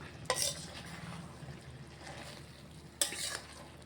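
Ivy gourd and tomato being stirred in a frying pan for a chutney, with soft scraping strokes and a low, faint sizzle underneath, quiet and close with two sharper stirring scrapes.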